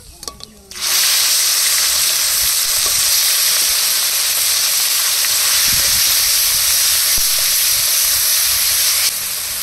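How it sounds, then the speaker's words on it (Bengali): Ground onion paste goes into hot oil with whole garam masala, dried red chilli and cumin in a home kitchen pan, bursting into a loud, steady sizzle after a brief quiet start, with a few faint stirring knocks underneath and nobody talking. "বেটে রাখা পেঁয়াজ দিয়ে এবার কষিয়ে নেব।"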